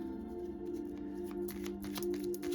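Oracle cards being shuffled by hand, a quick run of light papery riffles and flicks close by over a steady low hum, growing busier toward the end.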